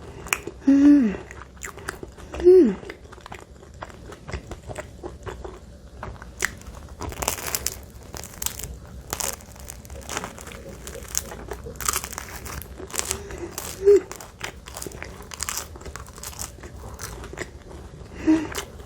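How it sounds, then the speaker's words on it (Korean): Crisp bakery bread, left in its bag for over twelve hours, crackles and crunches as it is bitten and chewed up close, with bursts of crinkling between steady munching. "12시간 넘게 있던 빵인데 어떻게 이렇게 바삭할 수 있죠?"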